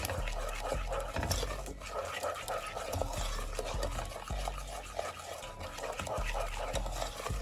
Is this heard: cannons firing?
no